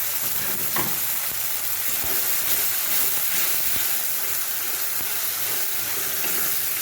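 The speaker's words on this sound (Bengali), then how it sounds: "মশলাটা কষে গেছে, এবার দেবো টমেটো বাটা।" Tomato paste hits spices already frying in a pan and sets off a loud, constant sizzle and hiss, broken by faint scrapes of stirring.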